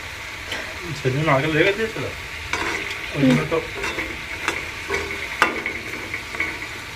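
Pitha rice cakes fry in a pan with a steady close sizzle and intermittent stirring scrapes, while background voices and other household noises drift in and out.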